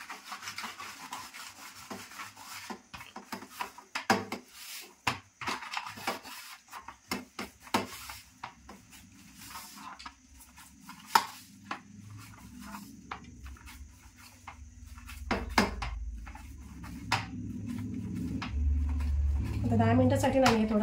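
Dry flour being scraped off a dough plate (parat) while making chapati, a long run of close rasping and rubbing strokes, irregular in rhythm, with someone talking at times.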